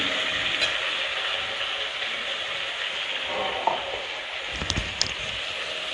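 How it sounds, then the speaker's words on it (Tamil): Chettinad mutton chukka fries in a pan with a steady, loud broadband sizzle that holds throughout, broken near the end by a few sharp clinks and scrapes of stirring. "இது நல்லா ஃப்ரை ஆகி வரணும்."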